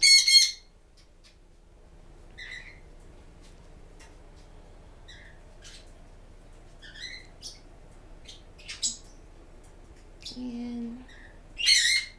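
Budgies in an indoor bird room give sparse, faint chirps and short squawks at irregular intervals against a quiet room background.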